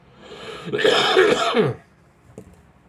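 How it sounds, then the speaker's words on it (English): A man coughs and clears his throat during a hockey postgame livestream, one harsh rasping burst lasting about a second, close to the microphone, then a brief quiet click after it. "I got a cough, guys."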